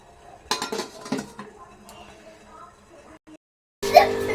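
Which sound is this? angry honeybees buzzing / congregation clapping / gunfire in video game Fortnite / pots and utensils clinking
pots and utensils clinking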